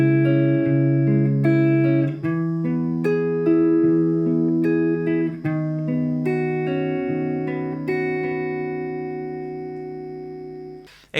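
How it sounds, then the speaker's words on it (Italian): A guitar arpeggio is played with the fingers in the style of a rock band's guitarist, each plucked note ringing into the next in a steady rolling pattern, clear and close, slowly decaying at the end. "L'arpeggio è fatto con le dita."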